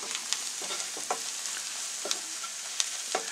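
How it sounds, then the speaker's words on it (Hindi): Turmeric and dry ginger powder sautéing in oil in a pan for dal makhani, a soft, fairly quiet sizzle punctuated by quick scrapes and light clicks of a spoon stirring at irregular intervals, without talking. "और इसको 1 मिनट के लिए अच्छे से पका लेंगे।"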